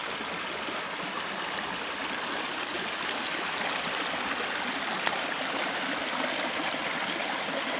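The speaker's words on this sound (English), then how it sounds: "we've got a little pool here, and then it spills down." Stream water spills from a small pool down over rocks after heavy rain, a steady, close, full rushing and splashing with no voices.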